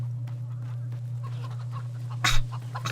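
Chickens cluck in the video game Fable 3, a short burst of fowl calls rising briefly over a steady low game hum, near and moderately loud.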